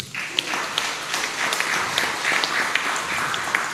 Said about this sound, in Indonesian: tepuk tangan sekali lagi Bapak